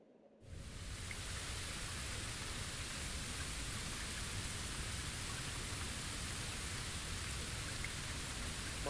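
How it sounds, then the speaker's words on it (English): Steady rain falls throughout in a video game scene, a dense, even hiss of drops starting abruptly after a brief quiet moment and continuing without a break. "Looks like the rain has stopped."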